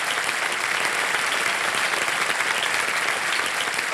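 A studio audience on the KBC High Flyers quiz show gives a contestant sustained applause, a continuous, even wall of clapping filling the room throughout without a break.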